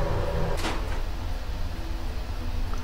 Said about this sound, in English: Try to get in the door.